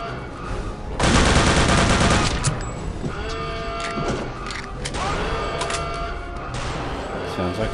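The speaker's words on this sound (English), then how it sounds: "Sounds like a sniper rifle." Gunfire in Return to Castle Wolfenstein, a loud cracking volley followed by scattered sharp shots and mechanical clatter over a busy game background.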